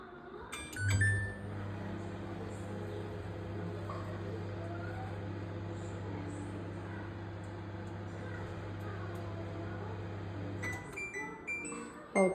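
A microwave oven hums steadily as it heats food for about twenty seconds, a low continuous drone between a clunk at the start and a click and beep at the end.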